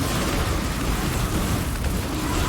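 Grenade blasts in a factory-building video game, rendered as a dense, continuous roar of overlapping booms and rumble with no clear gaps between them.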